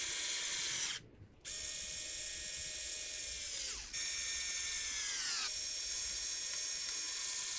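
Parts of an ARRMA Notorious V6 RC car are tightened with a high, whining, buzzing tool tone that runs steady and loud. It dips into brief pauses, and there is no talking.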